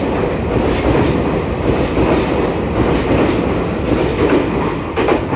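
An EMU3000 twelve-car express train on the Hualien–Taitung line rolls past close by, a steady, loud rumble of wheels and rail clatter that fills the whole stretch without letup.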